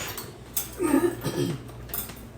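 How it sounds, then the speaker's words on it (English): Light metallic clinks of a spoon and fork being picked up and knocking together, a few soft close taps over quiet room noise. "I'm going to take a spoon and fork."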